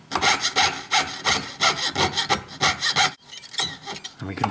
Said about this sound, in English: And we can file that out